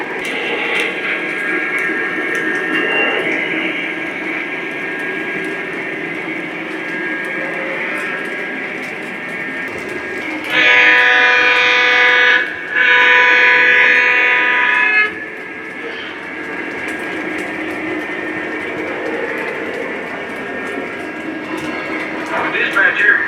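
A GP35 locomotive, an Abraham Lincoln custom-run model, running on track as a steady mechanical rumble with a sharper humming burst in the middle, under radio-style dispatcher talk.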